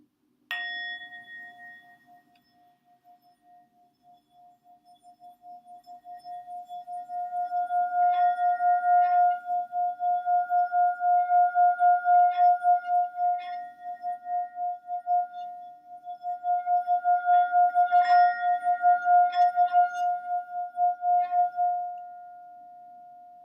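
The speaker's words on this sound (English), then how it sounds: "I'm going to start with the sound of the singing bell" A singing bell is struck once, giving a bright metallic strike followed by a long, sustained, pulsing ring that swells and fades across the clip, alone and close.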